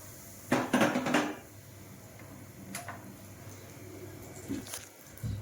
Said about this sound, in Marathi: चमच्याने चांगलं मिक्स करून घ्यायचं याला।